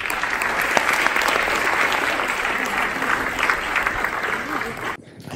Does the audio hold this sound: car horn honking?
no